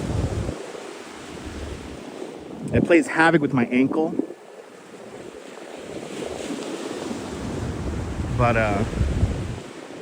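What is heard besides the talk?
ocean waves at Coney Island beach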